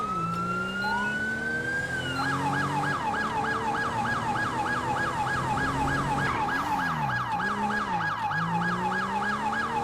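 A stolen fire truck's siren in a foggy GTA roleplay game, sweeping up and then warbling in a fast repeating yelp, loud and steady over engine noise, with no talking.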